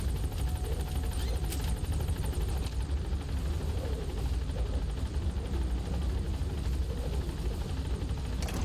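A helicopter lifts off in Metal Gear Solid 5, its rotor thrumming as a steady, loud, continuous drone with a low rumble throughout.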